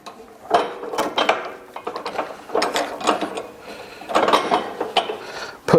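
Stand on a Chapman FM150 ATV flail mower being wound down by hand, a close, repeated ratcheting and clicking of gears in uneven bursts with short pauses between turns.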